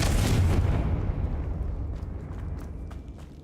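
A fiery Confringo spell in a wizard video game bursts with a heavy boom that rumbles and decays over a few seconds, loud at first and then fading.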